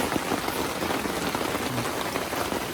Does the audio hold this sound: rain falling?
yes